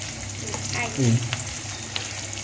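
Brinjal fries in a pan until reddish, a steady soft sizzle with occasional stirring, heard close with no one talking.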